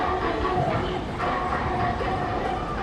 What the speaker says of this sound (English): You can see the trains going past the station from the Yamanote line will go through here too